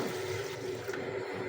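Grains for kheer are rinsed in a bowl of water, giving a continuous close sloshing and swirling of water at an even level throughout, with no talk.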